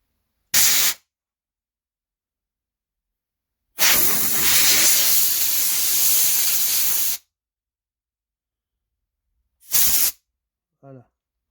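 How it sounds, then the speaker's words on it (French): Compressed-air blow gun hissing while a DeWalt DCE040 module is being worked on, three sharp bursts of loud close air hiss, one short and two longer, separated by silence, with a brief voice at the end. "je prends tout simplement une soufflette"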